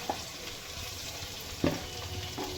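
Egg stir-fried in a pan with fried carrot, capsicum and onion gives a soft, steady sizzle, with a few scraping knocks as the mixture is tossed.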